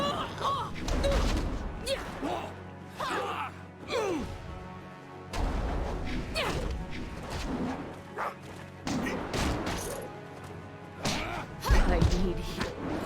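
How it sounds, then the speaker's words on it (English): Cannon fire booms in the action role-playing game Jade Empire, with heavy thuds and crashing impacts in repeated bursts amid combat noise, while a voice talks over the fighting. "Cannon fire, look out!"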